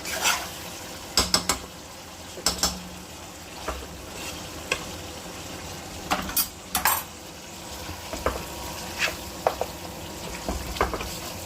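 A nearly finished Khulna-style beef curry with chui jhal simmers in a pot as a spoonful of roasted cumin powder is stirred in. A soft sizzle runs under repeated scraping and clinking of the spoon against metal.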